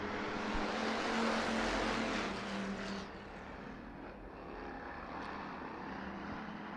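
Hobby stock race cars roar around an off-road speedway, a broad engine drone at a distance that dips and settles as the pack moves, with no talk over it.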